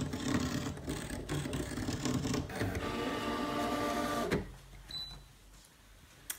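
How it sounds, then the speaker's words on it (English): A Brother ScanNCut SDX2200D cutting machine drives its blade through heavy weave fabric, a steady mechanical whirring and grinding for about four seconds before the motor stops and the room falls nearly quiet. "you can hear the blade going through the fabric"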